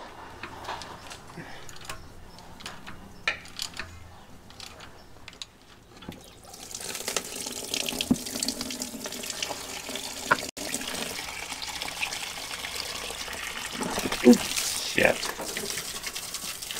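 Liquid drains and splashes from the extended drain plug of a broken lathe during repair. It comes in as a steady broadband trickle after a quiet start, with scattered clanks and knocks. A voice speaks briefly.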